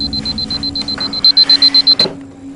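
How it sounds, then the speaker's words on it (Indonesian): An alarm clock beeps in a rapid series of short, high electronic pulses, growing louder toward the end, over a steady low hum. "Alarm berdering pukul 3 pagi."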